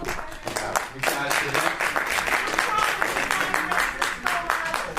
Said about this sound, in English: I ask people to hold their applause.